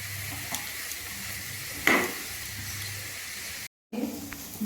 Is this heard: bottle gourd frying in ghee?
yes